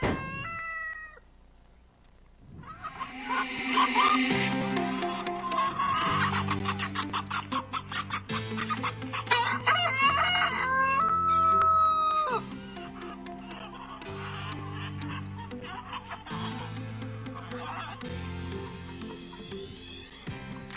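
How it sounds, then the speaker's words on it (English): Rooster crowing and hens clucking in a played video clip, heard loud and continuous for about twenty seconds under a layer of steady tonal music, with no talking. "With the crow of the cock, there is nothing difficult in life."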